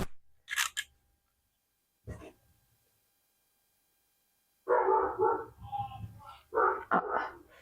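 A dog named Swan barks indoors: a couple of sharp isolated barks early on, a pause, then a longer close run of barking mixed with whining yelps.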